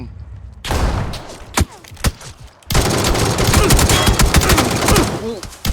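PUBG gunfire with scattered single shots, then a dense, continuous burst of rapid fire that keeps going to the end.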